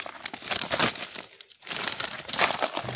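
A plastic bag is crinkled and rustled by hand outdoors at night after rain, steady close crumpling that pauses briefly midway and then resumes.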